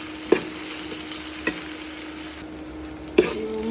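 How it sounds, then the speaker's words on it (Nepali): Ground spice masala of garlic, ginger, cumin and coriander frying in a pan with cashews for shahi paneer curry, a steady sizzle broken by three sharp spoon scrapes against the pan as it is stirred, close and without talk. "यो मसला हालेर एकछिन भुट्नु।"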